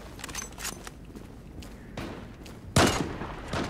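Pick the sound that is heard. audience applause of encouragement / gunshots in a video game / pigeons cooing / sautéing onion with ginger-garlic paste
gunshots in a video game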